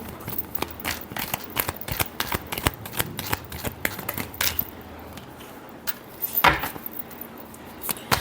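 Tarot cards being shuffled by hand for a reading, a string of crisp riffling and slapping bursts, close and clear, with a louder flurry near the end and no talking over it.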